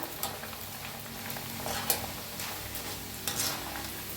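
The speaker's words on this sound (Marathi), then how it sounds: "मक्काचा चिवडा बघा कसा आवाज ये लागलाय" Corn chivda roasts a little at a time in a pan, giving a continuous crackling sizzle with a few brighter rattling scrapes as it is stirred, moderately quiet and without speech.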